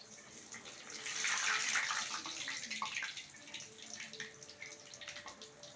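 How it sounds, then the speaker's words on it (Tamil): Banana flower vadas frying in hot oil give a steady, bright crackling sizzle that swells and then eases slightly, close by and continuous with no one talking. "இப்போ தான் கொஞ்சம் எண்ணெய் சலசலப்புலாம் அடங்க ஆரம்பிச்சிருக்கு"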